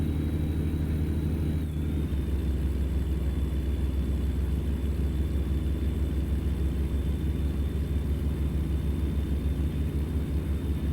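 A truck engine in American Truck Simulator drones in a steady low rumble that holds throughout, with a slight dip in pitch early on before settling into a constant, even pull.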